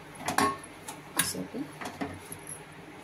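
A spoon scrapes and knocks against a pan while semolina and jaggery ladoo mixture is stirred, a few quiet clinks and scrapes at irregular intervals.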